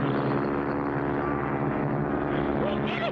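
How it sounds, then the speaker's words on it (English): Propeller plane engines drone continuously and loudly in a 1960 color cartoon about bush pilots, with a steady roar and a faint rising whine near the end. "There's another plane right on top of us."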